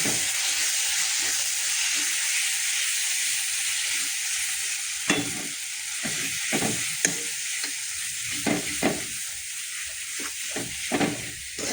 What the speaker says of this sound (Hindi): ଏପଟ ସେପଟ କରି ତେଲ ବାହାରିଲା ଯାକେ ମସଲାର କଞ୍ଚା ସ୍ମେଲ୍ ଗଲା ଯାକେ ବାଗେଇକିନି ଆମର କଷିଦେବା